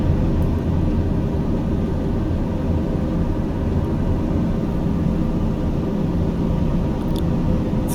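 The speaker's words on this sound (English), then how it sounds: "Here we are taking off from Orcas Island." A Daher TBM turboprop airplane climbing out after takeoff from Orcas Island, a steady loud engine and propeller drone heard from the cabin, constant throughout with no other sounds.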